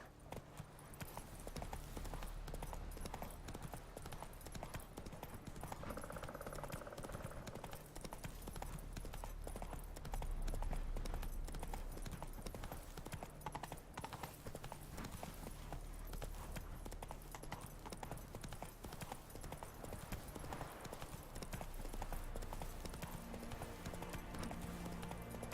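Horse hooves clip-clop steadily in The Witcher 3, a continuous galloping rhythm at moderate distance, with faint game ambience beneath and no talk.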